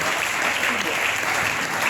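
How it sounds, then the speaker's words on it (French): A church congregation applauds during a French-language sermon, loud, dense clapping sustained throughout. "Est-ce qu'on peut applaudir?"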